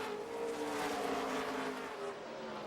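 Race trucks roar around the Memphis track during a 2009 truck series race, a loud, sustained engine drone that swells and fades slightly as they pass.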